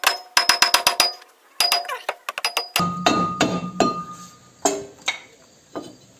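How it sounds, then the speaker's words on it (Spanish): A hammer strikes a Ford Focus brake disc again and again in sharp, ringing metallic clinks. The blows come in quick irregular bursts, then in heavier spaced hits with short pauses between them. "vamos a golpear el disco con un martillo de fibra, puede ser, y lo sacamos"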